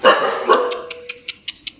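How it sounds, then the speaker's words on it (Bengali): A native village dog barks close by, two fuller barks followed by a quick series of shorter, sharper yaps in a loose rhythm, loud and alone without talk. "দেশি কুকুর"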